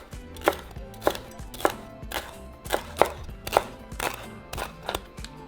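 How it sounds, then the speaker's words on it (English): A knife chops food into strips on a cutting board, giving about ten crisp, evenly spaced thuds close to the microphone, with no talk. "so now we're just going to cut into strips"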